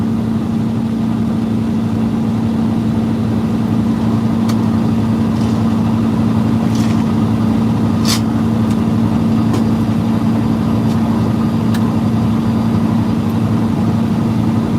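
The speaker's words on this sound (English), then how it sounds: "Turn our compression brake on, engine brake, Jake brake, whatever you want to call it." A truck's compression brake engaged while cruising a highway, giving a steady low engine drone with a strong sustained tone throughout and a few faint clicks over the top.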